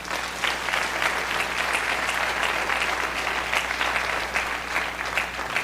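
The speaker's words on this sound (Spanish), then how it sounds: "dale un aplauso, qué claro" Sustained applause from a church congregation fills the space, steady and dense clapping from many hands throughout, with no voices standing out.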